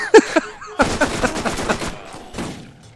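A tough enemy thug fires a shotgun in Borderlands, with several sharp, loud blasts in quick succession that fade into a lingering tail, with a voice heard at the start.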